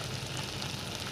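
Onions hitting a hot pan while cooking a Punjabi-style makhani gravy for pasta, giving a steady dense sizzle of frying with no break, at moderate level.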